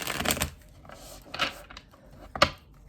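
Three quick riffling bursts of tarot cards being shuffled, close and crisp, separated by short quiet pauses.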